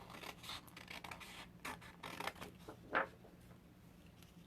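Scissors cut out a shape from paper or card for a baby belly album, making faint, close, intermittent snips and rustling scratches in a quiet room with no speech.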